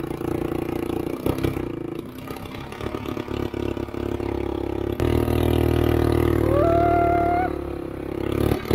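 A beach buggy's engine idles and revs at a busy beach ride stand, a steady mid-pitched rumble with a rising whine toward the end.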